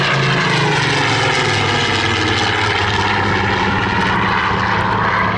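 A Spitfire PR XIX propeller aircraft flies at the Southport Airshow, its engine giving a loud, continuous droning roar with a steady, throbbing tone and no pauses.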